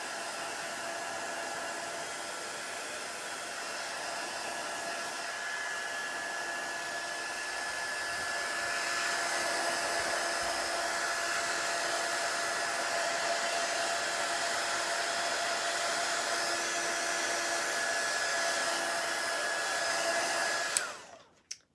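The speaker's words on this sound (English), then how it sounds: "I'm just going to run over my heat gun for a second with that." A heat gun drying shimmer spray on a craft project blows a steady, loud, close whooshing roar for about twenty seconds, swelling slightly midway before cutting off abruptly at the end.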